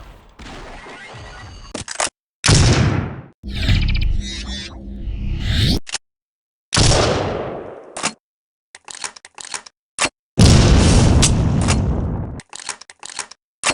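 A shotgun in a first-person shooter video game blasts at monsters, each shot a loud, booming crack in its own burst, split by short silences.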